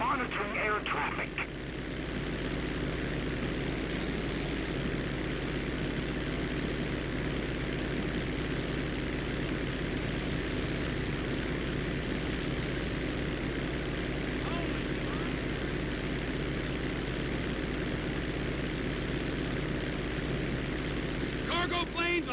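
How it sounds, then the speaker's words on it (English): Merryweather cargo plane engine droning steadily throughout in GTA 5 with a constant low hum, with a faint voice layered over the noise. "the Merryweather plane is in a holding pattern to the west"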